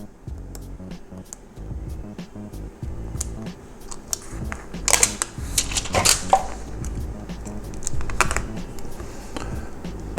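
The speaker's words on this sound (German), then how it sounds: "Dann ziehen wir jetzt die Folie ab." Protective film is peeled off a replacement display for a VW Golf 5 Highline, Passat, Tiguan, Touran or Caddy, giving close, crisp crackles and ticks in irregular bursts over quiet handling noise.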